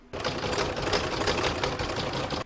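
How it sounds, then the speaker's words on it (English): A sewing machine runs fast for decorative quilting stitches between quilted blocks, a close, loud rapid mechanical chatter that starts abruptly and stops at the end. "stitching that it's going to do is all a decorative stitching along the area between each of the quilted blocks"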